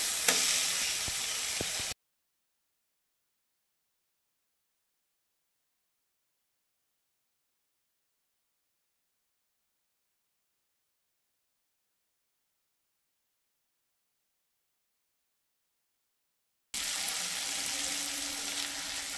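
Garlic and green chili paste sizzling in a pan with dry chilies, in home cooking of a doi katla fish curry: a steady frying hiss for a couple of seconds, a long silence, then the hiss again.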